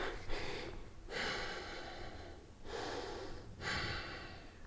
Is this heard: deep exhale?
yes